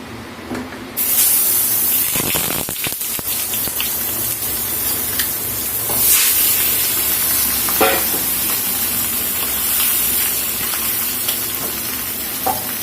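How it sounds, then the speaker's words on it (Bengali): A fish fries in a little oil in a pan, a loud steady hissing sizzle that continues throughout, with occasional scrapes and clatters from handling it. "মাছটা এখানে ভাজা হতে থাকুক।"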